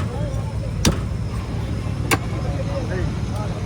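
Road traffic in Dwarka during a full-moon pilgrimage: a steady broadband rumble of passing cars, broken by two sharp bursts, with voices faintly mixed in.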